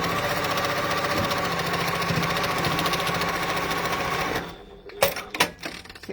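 A sewing machine runs fast and continuously stitching a seam, a dense mechanical whir that stops abruptly, followed by a few sharp clicks and handling knocks.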